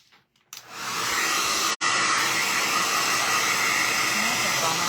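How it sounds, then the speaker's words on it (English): A blow dryer roars on after a brief click and blows steadily, loud and close, clearing dust off a roughed-out DIY recycled Christmas craft project, with one momentary cutout partway through. "I'm gonna take a blow dryer to this just to blow everything off of it."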